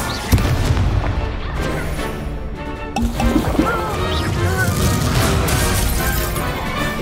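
Confringo explosion spells cast in a video game, heavy booming blasts and crashing debris over continuous loud battle noise, with one big burst standing out near the middle.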